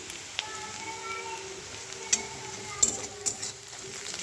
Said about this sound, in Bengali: পেঁয়াজটা আমি ভেজে নিচ্ছি, আর আমি তেজপাতা আর গোটা গরম মশলা ফোড়ন দিয়েছি।